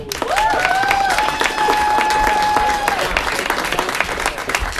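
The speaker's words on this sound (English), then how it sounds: "A big round of applause for the very funny Bill Devlin." Comedy club audience at the Joke Joint applauding comedian Bill Devlin, a steady sustained wash of clapping with a few cheers, loud and close, while a high voice holds a long sung or whistled note over it.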